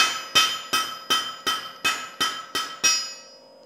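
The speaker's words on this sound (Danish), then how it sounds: "Smeden kan signalere to ting, når han lader hammeren falde på armbolten." A blacksmith's hammer strikes the anvil bolt eight times in a steady, evenly spaced rhythm. Each loud, close metallic clang rings briefly before the next, and the final hit decays into a fading ring.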